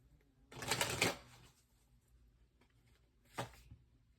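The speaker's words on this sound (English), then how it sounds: "let's pull some more oracle cards" Oracle cards being shuffled and pulled from a deck: a soft, papery riffle of about a second, a pause, then a brief second card flick, all close and quiet with no talking.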